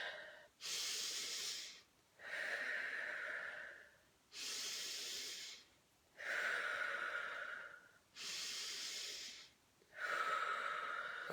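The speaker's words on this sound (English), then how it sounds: "nice deep belly breaths" Deep belly breathing exercise as part of a guided breathing challenge: slow, loud breaths alternate between long airy inhales and exhales, about six phases in a steady rhythm, close to the microphone with no talking.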